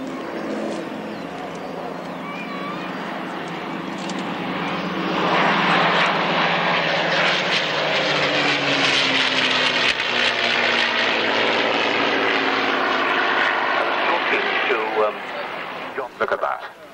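A Griffon-engined warbird of over 2,000 horsepower at an airshow on Wroughton Airfield, its engine droning steadily and swelling into a loud, sustained roar as it passes close, with a commentator's voice heard over it.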